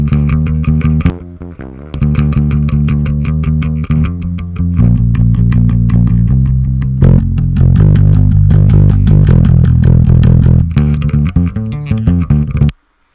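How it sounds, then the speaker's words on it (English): Distorted bass guitar processed through the Audio Assault Bass Grinder Free plugin plays a driving riff of steady, punchy notes with a gritty, growling tone. It is loud and close, with no talking. "I'm using the bass grinder free from Audio Assault. Turns it into a much more usable signal."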